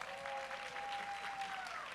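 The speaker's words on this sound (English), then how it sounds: "Give her a round of applause." An audience at a college powerlifting nationals meet claps for a lifter, a steady patter of applause that carries on for a couple of seconds at moderate distance.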